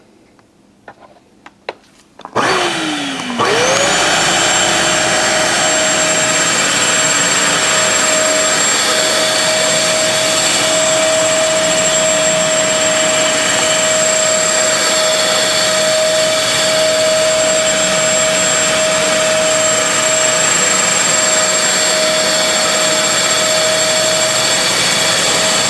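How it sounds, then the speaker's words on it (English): Bissell Deep Clean Premier 80R4 carpet cleaner running on carpet, a loud steady motor whine and suction roar that spins up after a few faint clicks and holds constant to the end. "you can see the dirt and the soap and the foam coming up into the machine while you're vacuuming"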